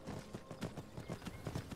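Horse hooves clip-clop in Skyrim, a quick, steady run of soft, close hoofbeats at an even trotting rhythm, fairly quiet and with no speech.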